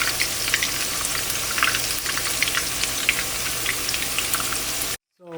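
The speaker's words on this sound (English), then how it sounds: "It's been about 3 minutes since we have started frying them." Chapli kababs sizzling in a frying pan with oil, a dense, steady crackle and spatter of small pops that continues evenly before cutting off abruptly near the end.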